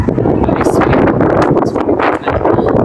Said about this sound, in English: that place is windy. It's windy.